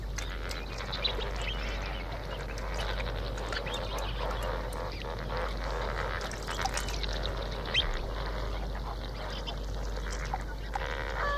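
A flock of flamingos calls in a dense, continuous chorus of honking, goose-like cries, steady and moderately distant, with no voices over it.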